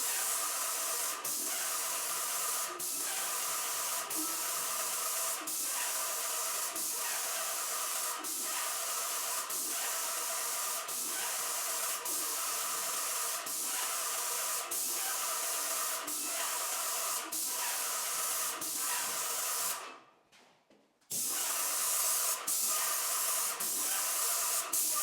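A paint sprayer spraying a ceiling, a steady loud hiss running continuously with faint regular clicks, cutting out briefly near the end before resuming.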